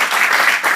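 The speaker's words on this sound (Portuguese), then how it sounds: "Você pode dar uma salva de palmas." Church congregation clapping in a brief, steady burst of applause, close and dense, lasting under a second.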